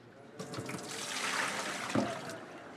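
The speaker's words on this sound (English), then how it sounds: "I'm worried that that bird might overflow my pot, so I'm gonna spill off a little of the water" Water spilled off from a cooking pot into a sink, a steady pouring rush running throughout at close range with no voices.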